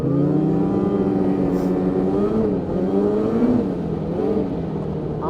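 A 2026 Ski-Doo full-size snowmobile engine revs hard and steadily with its track spinning in snow, a loud continuous drone that swells and dips in pitch across the whole stretch.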